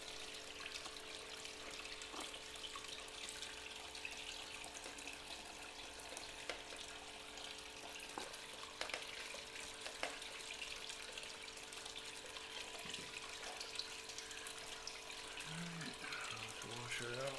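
Water runs steadily while a gold pan is washed out, a faint continuous rushing and trickling with a few small clinks and taps over a low background hum.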